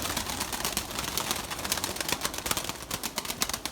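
Erzurum white breeding pigeons cooing in a loft, soft repeated coos mixed with rustling and scratchy clicks at close range, no talking.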